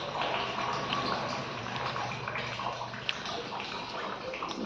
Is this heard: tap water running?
yes